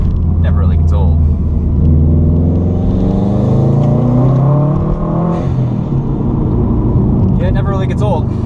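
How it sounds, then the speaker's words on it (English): A Subaru WRX accelerating hard in second gear, its engine note climbing steadily in pitch as it pulls, loud and close from inside the car, with a brief shift-like dip near the end. "Let's see if we can't get a little second gear acceleration here"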